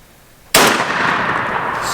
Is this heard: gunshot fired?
yes